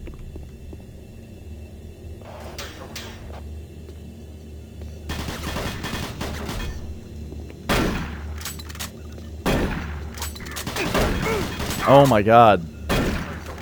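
Bursts of automatic gunfire from the machine gun in Doom 3, sharp broadband volleys scattered across the stretch with brief gaps, mixed with game noise, a rumble bed and a short glassy shatter, under a voice speaking briefly.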